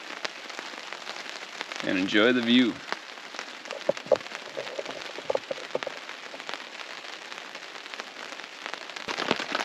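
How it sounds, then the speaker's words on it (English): Steady rain pattering on a tarp and tent at a wilderness canoe campsite, a constant soft hiss with scattered sharper drops, and a person briefly talking over it. "Well, it's still raining."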